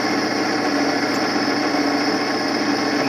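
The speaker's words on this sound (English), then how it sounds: "I'm backing the feed pressure off as it's breaking through" A drill boring through a steel plate for bolt-on loader hooks on a 2017 John Deere 2032R: a steady, loud, continuous whirring grind with constant tone throughout.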